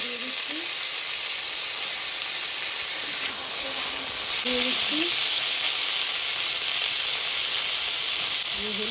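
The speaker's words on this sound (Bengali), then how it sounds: "তেল দিয়ে দিচ্ছি, শুকনো লঙ্কা আর পাঁচফোড়ন দিয়ে দিচ্ছি চাটনির জন্য" Dried red chillies and five-spice seeds frying in oil for a chutney, giving a steady, close hiss and sizzle that carries through the whole stretch, with a few faint clinks of the pan.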